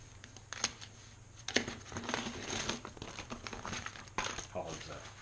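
Plastic packaging around a Byrd Shelix spiral cutter head for a jointer crinkles and crackles up close in quiet, irregular bursts, with sharper rustles scattered through and a faint steady hum beneath.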